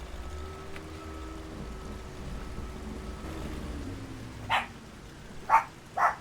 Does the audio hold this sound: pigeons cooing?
no